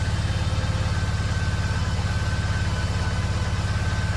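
A BMW E46 car idles in first gear after a repair to snapped differential bolts. The engine hums steadily and evenly, close by and continuous, with no voices.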